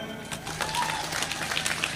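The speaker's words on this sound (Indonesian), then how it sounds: "Tepuk tangan." An audience at a live religious gathering in Sempusari claps for about two seconds, a brief scattered burst of many hands that stays fairly steady.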